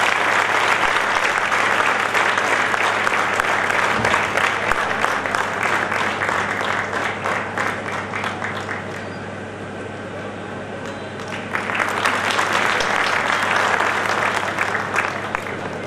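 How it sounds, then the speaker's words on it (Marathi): A crowd at the inauguration of a generic medical shop claps loudly and continuously for many seconds, a dense, sustained applause that dips briefly before swelling again, with faint background voices. "सगळ्यांनी टाळ्या वाजवून त्याचा आपण करूया."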